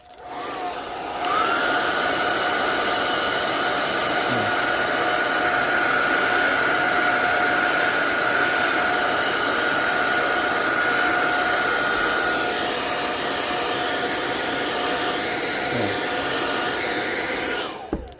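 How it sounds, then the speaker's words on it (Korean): A hair dryer blows hot air to heat-shrink plastic wrap around rolls of coins, a loud steady whirring hiss switched on at the start and off at the end, with faint handling knocks. "요건 어떻게 수축하냐면 이렇게 넣어놓고 드라이기 있잖아요 네, 드라이기로"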